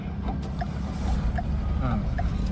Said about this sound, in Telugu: స్టార్ట్ అయింది బండి ఇంజన్ మాత్రం చాలా సైలెంట్ ఉందండి